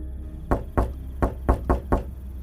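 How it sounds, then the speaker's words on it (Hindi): Loud knocking on a door during a night-time horror story: six sharp, heavy raps in uneven pairs and triplets, close and alone in quiet. "इस बार दस्तक पहले से ज्यादा तेज थी"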